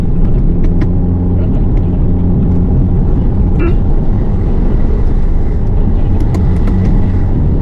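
A vehicle engine roars at full throttle, close and loud, a steady dense rumble that never lets up as it climbs a steep uphill road on the Beruk–Wonorejo route over Gunung Jokolangan in Karanganyar.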